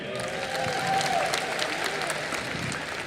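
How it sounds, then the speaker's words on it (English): An audience applauds at a film festival closing ceremony, a sustained wash of clapping heard from a distance in a large hall, fairly even throughout. "Round of applause once again."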